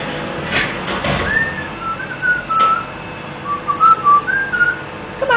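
Several short whistled phrases from a tiny parrot come close and clear, sliding notes spaced out over a few seconds against faint indoor background.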